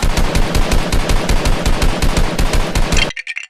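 A Nerf gun firing at a glued Lego house, a loud, fast, steady rattle of shots throughout, cutting off abruptly into a few faint clicks at the end.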